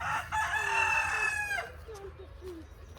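Chickens in a garden cluck and crow close by, with a long rooster crow up front followed by shorter clucks and calls over faint background noise.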